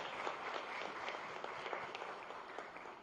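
A conference audience of town planners gives steady, moderately distant applause, a continuous patter of many hands that holds at an even level throughout.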